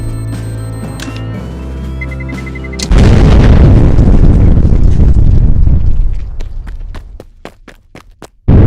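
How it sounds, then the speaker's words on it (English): Massive boom bursting in after a droning, tonal buildup, the explosion roaring loud and wide before decaying into a long rumbling tail with scattered debris crackles. "Somehow I managed to survive the explosion"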